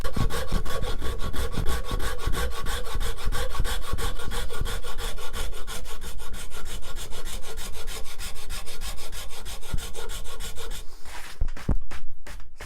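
A rasp files along the edge of a wooden banjo neck, working back and forth in a steady rhythm of close, loud scraping strokes that keep going with no talk, then break into a few separate strokes near the end.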